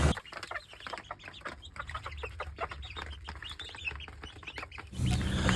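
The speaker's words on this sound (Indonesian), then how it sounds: "Sebelum dipisah, saya kasih makan dulu anakan ayamnya" Serama chicken chicks cluck and peep busily while being fed in a small cage, a steady stream of close, overlapping chirps that ends in a louder burst of rustling.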